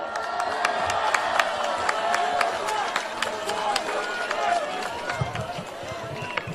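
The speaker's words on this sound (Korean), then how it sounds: "여러분 큰 박수로 맞아주십시오" A crowd at a political rally cheers, claps and shouts in a dense, steady wash of sound with sharp claps scattered through it, heard from within the gathering.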